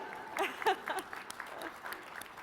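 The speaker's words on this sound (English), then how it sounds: "you can clap for that, absolutely" Brief, quiet burst of audience clapping at the 2023 Just Economy Conference, a scattered patter mixed with a few voices calling out over the crowd.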